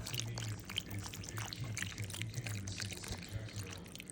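Vegetable broth pours from a carton into a slow cooker for lentil and sweet potato chili, a continuous close glugging, splashing stream of liquid that runs steadily throughout.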